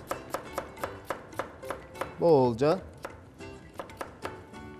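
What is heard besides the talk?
chopping potatoes into small cubes with a knife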